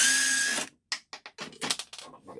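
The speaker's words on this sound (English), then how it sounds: "I really like power tools for this situation" Close and fairly loud, a power tool drives screws, first a sustained whine that cuts off, then a run of short, choppy bursts as the trigger is pulsed.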